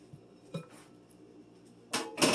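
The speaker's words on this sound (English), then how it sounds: "Scrape the onions right in." Chopped onions scraped off a cutting board into a bowl, a few soft clicks followed by two louder rough scraping bursts close by at the end.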